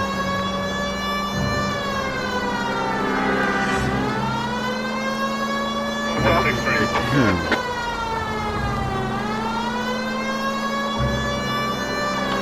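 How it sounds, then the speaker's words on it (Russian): A police car siren wails continuously in slow rising and falling sweeps while the car drives in the game L.A. Noire, loud and close, with engine noise beneath and a brief clatter midway. "Сиренами, блин, реально хорошо ездить."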